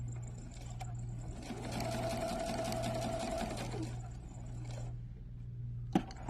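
Sewing machine stitching bias tape onto a garment neckline, a steady close mechanical whir with a fast rhythmic needle chatter that rises briefly and settles, ending with a sharp click as it stops.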